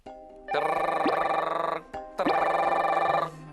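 A telephone rings twice, each a loud, sustained electronic trill lasting over a second, with a short pause between rings.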